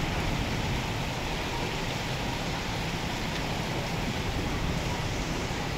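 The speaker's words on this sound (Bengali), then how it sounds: "মুষলধারে বৃষ্টি হচ্ছে।" Heavy rain pours down steadily at a market in Chauddagram during strong wind, a dense, loud, unbroken roar of water on surfaces lasting throughout with no talk.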